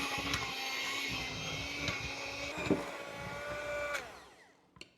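An electric hand mixer whirs steadily while beating a strawberry pizza filling, a continuous motor drone with tonal whine that holds for about four seconds, then winds down and stops, followed by a brief clatter.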